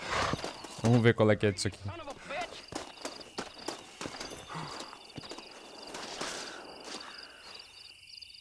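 A horse's hooves clip-clop in a steady walking rhythm in the video game Red Dead Redemption, with a brief whinny and louder hoof beats near the start, while someone talks over it.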